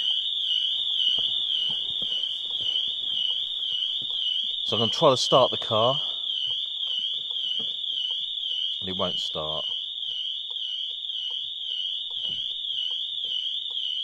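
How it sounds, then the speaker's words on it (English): A Cupra Formentor's Pandora Smart Pro car alarm wails in a loud, continuous electronic warble throughout, set off because it won't disarm, with someone talking over it in two short bursts. "now the alarm system is going to go off because it won't disarm"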